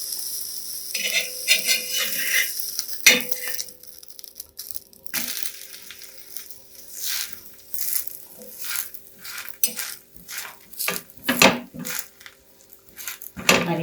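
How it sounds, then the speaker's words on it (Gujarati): A masala onion paratha roasts on a griddle over a medium gas flame while it is pressed down, giving a steady soft sizzle broken by repeated scraping and crackling bursts at close range. "આ રીતે ધીમે ધીમે પ્રેસ કરતા પરાઠાને આપણે મીડિયમ ગેસ ઉપર જ શેકીશું."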